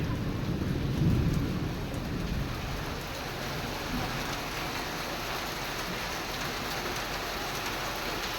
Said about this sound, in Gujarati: આમ જો આમ ભાઈ વીજળી પડી, હા તડાકે ભડાકા બોલે હો ભાઈ ભાઈ